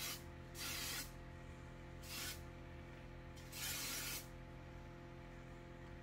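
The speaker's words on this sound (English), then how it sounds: "This is the Aussie Mega Hairspray, you guys." Aussie Mega hairspray released from an aerosol can in three short, close hissing bursts separated by brief pauses over a quiet room hum.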